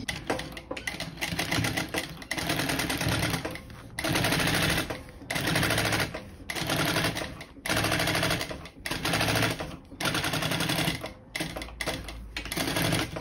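A sewing machine topstitches a seam on a bag lining, running in rapid mechanical bursts separated by short pauses, close and fairly loud, with no talking.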